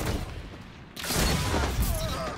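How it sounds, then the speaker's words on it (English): A two-burst Smuggler's Word gun fires in a video game, a sudden dense crackling blast of shots erupting after a brief lull and ringing on loudly to the end. "Fire the gun."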